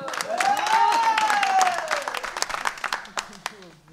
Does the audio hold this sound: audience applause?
yes